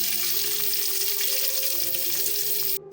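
Chopped onion hits hot oil seasoned with panch phoron and sizzles loudly in a dense, steady hiss, cutting off abruptly near the end.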